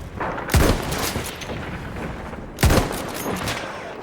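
Two loud gunfire bursts in the video game Battlefield, the first near the half-second mark and the second near 2.6 seconds, with a busy battle ambience of more distant shots in between.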